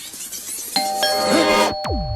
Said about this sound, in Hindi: जब भी ये घंटी बजती है कोई ना कोई मुसीबत जरूर आती है।